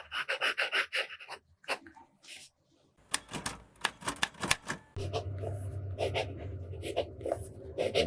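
A TWSBI fountain pen with a dry nib writes on paper in close, soft scratching strokes that come in short bursts with brief pauses, then turn into a denser run of scribbling.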